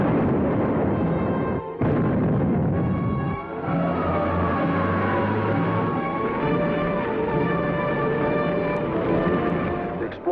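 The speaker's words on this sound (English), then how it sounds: "The explosion was felt throughout this area." A loud, sustained explosion from a monster movie rumbles and roars for about ten seconds, with a sharp break near the start and a second blast soon after, leaving a long, dense, roaring tail.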